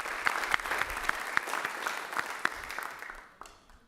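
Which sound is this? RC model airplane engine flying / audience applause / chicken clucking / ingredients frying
audience applause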